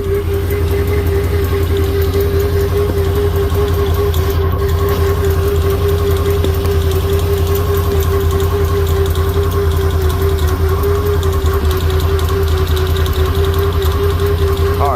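A Can-Am with a slipping belt runs at a steady idle, close and loud, with a continuous droning engine hum and a sustained whining tone over the full stretch.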